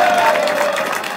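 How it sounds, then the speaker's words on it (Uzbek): An audience at a Zakovat quiz game applauds the teams, giving a loud burst of clapping with crowd noise and a thin held tone that fades slightly toward the end. "Atrofdagilar olqishlar."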